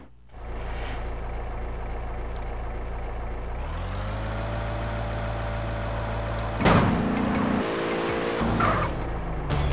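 A taxi driven in GTA San Andreas: a steady engine drone that revs higher partway through, then bursts of tire squeal and crashing clatter near the end.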